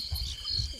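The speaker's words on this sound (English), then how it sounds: "I hear crickets." Crickets chirp in a quick pulsing trill, faint and steady, with no talk over them.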